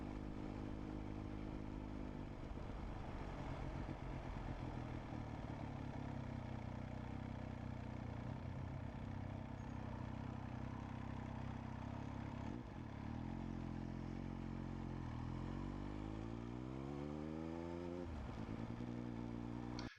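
A motorcycle pulls out onto a main road and accelerates away, its engine a loud continuous drone heard up close with wind rush, the pitch climbing in rising sweeps toward the end.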